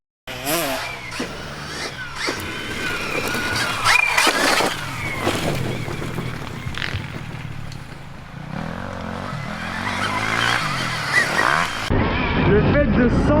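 A Stark Varg electric motocross bike revs and accelerates in bursts, its electric drive whirring with tire and wind noise, while someone talks over it throughout.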